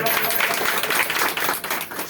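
A church congregation claps together during a worship service, a dense, continuous wash of applause that holds at a steady loudness throughout.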